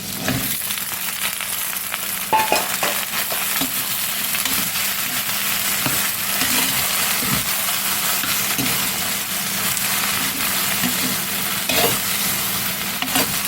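Ridge gourd cooks with tomato in a pan for a Tamil egg gravy, giving a steady close sizzle with scraping stirs and occasional spoon knocks throughout, no voices.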